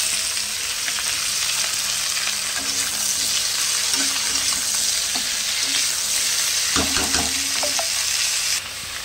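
Spinach, potato and tolli greens hit hot oil with fried onions in a loud, steady sizzle that stays close and constant, with occasional clinks and scrapes of stirring and a sudden drop in noise near the end.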